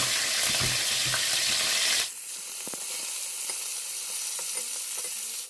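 Meat hits a hot pan and starts sizzling loudly, then the frying settles into a steady, quieter crackle with small pops and scraping sounds, and no one speaks.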